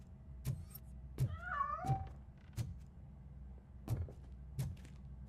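A cat meows in the RoboCop: Rogue City video game, a short rising-and-falling cry near the middle, set among sharp periodic thumps and a low steady hum.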